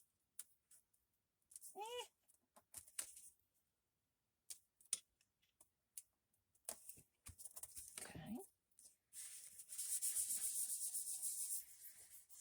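Glued paper is rubbed down firmly onto an old file folder, with quiet, close scratchy strokes in short bursts that end in a longer steady rub. A voice speaks briefly in between.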